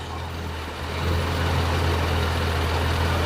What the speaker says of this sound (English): It sounds much better and is idling much more smoothly than it was before I took it apart.